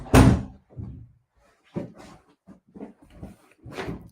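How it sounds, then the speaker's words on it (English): An indoor door shuts with a loud, sharp slam, followed by a few softer knocks and thuds of handling at close range, with no talking. "I'm just going to close the door."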